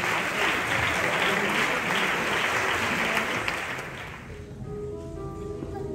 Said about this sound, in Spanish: un fuerte aplauso al Señor y nuestro hermano con nosotros